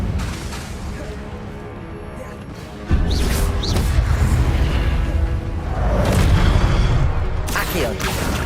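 Incendio fire spell cast in Hogwarts Legacy on PS5: a sudden booming whoosh that jumps in loudness near the three-second mark, followed by sustained roaring, crackling bursts, with faint speech mixed in.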